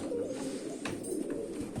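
Soft, steady cooing of crested pigeons fills the clip nearby, a low continuous murmur with a faint click or two.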